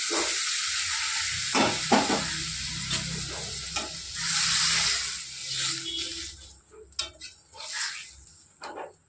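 Ground-lentil water hits a frying dal curry in a hot pan and bursts into a loud hiss of steam and sizzle. The sound then surges and fades in waves, with a few sharp clinks and scrapes near the end.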